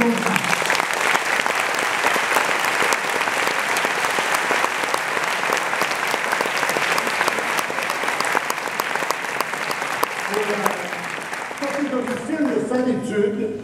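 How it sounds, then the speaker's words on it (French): An audience at the Annecy animation festival opening claps in sustained, dense applause that fills the room, fading slightly near the end as a voice begins speaking. "On les applaudit."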